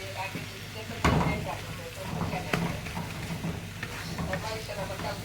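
Boiled banana stem hits a hot pan of frying dalia with a sharp burst of sizzling, then a steady crackling fry with stirring knocks, close by, while a voice talks over it.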